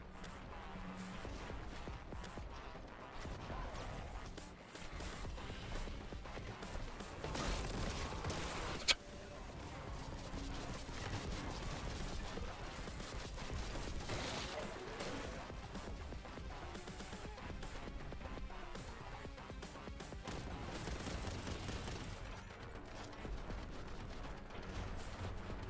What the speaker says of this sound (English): I've got a Grav Cannon.